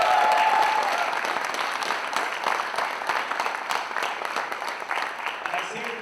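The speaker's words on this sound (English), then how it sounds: "big round of applause to them" An audience applauds at a corporate leadership event, steady clapping from many hands filling the room from the start and holding at an even level throughout, with a faint voice briefly present near the beginning.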